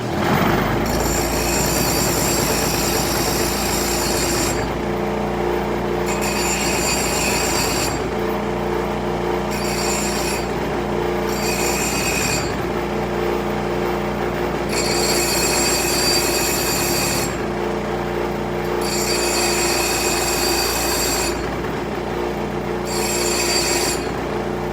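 A grinder touches up a shift linkage part for an Impala, giving a loud, continuous high whine with recurring bursts of harsher grinding as the metal is pressed on and pulled away.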